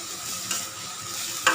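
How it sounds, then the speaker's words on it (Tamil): Continuous sizzling of onions frying in a pan, with a couple of brief scraping stirs. "வெங்காயம் நல்லா வதக்கி எடுத்துக்கணும்."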